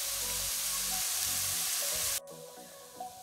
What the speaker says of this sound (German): Und das Ganze darf für 2-3 Minuten andünsten.